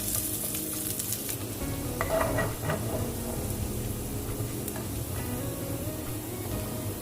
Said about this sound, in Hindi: लहसुन उनको बारीक काट लिया और इनको मैं फ्राई कर लूँगी।